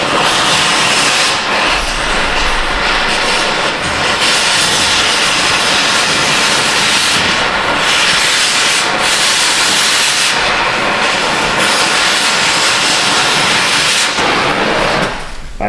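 Cutting tool slicing the bearing race off the rear axle of a 2012 Jeep Wrangler, a loud continuous harsh hissing grind that runs unbroken for about fifteen seconds, close up and alone.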